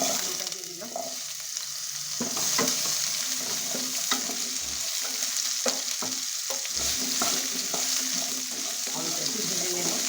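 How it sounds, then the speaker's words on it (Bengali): Potatoes fry in hot oil with a steady, hissing sizzle, close by, while occasional clinks and scrapes of stirring against the pan come and go throughout. "আলুটা একটু ভেজে নেব।"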